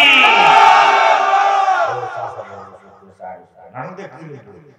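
A large crowd at a religious gathering roars a loud, sustained collective shout of takbir in response, then fades into scattered murmurs and a speaking voice.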